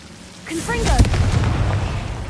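Confringo fire-blast spell explosion in Hogwarts Legacy, a sharp burst that swells into a sustained rumbling roar lasting over a second, preceded by a brief tonal voice and game effects.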